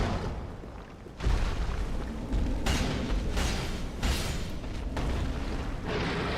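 A Dark Souls 3 boss unleashes a big explosion in a video game, a sudden loud boom followed by a long, roaring broadband blast with pulsing surges.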